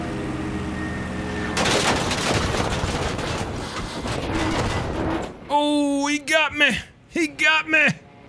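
Machine-gun fire rattles at the player's propeller plane in Battlefield V, a sudden loud burst of rapid shots that continues for several seconds. A voice then breaks in with short, excited exclamations.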